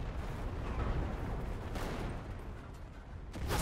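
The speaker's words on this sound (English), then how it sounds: "Oh, I got killed by the bombs." Bombs exploding during a Pacific battle in the Enlisted video game, heard as a dense, continuous roar of blasts and gunfire. The din holds loud throughout and swells again near the end.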